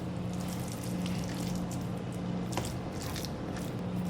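Mashed potato aloo ka bharta is being stirred in a bowl after water was added, giving a steady run of close, wet squishing and soft crunchy mixing sounds over a faint low hum, with no talking.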